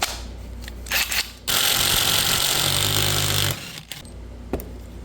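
Hart cordless impact wrench from Walmart, used while rebuilding a Yamaha YZ450F dirt bike, gives two short bursts then one loud sustained rattling run of about two seconds, close up and alone.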